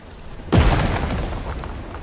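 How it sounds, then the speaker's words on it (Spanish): A single heavy, cannon-like explosion booms in the survival video game ARK: Extinction, a sudden loud blast that rolls off into a fading rumble. "pero es que parecen cañonazos"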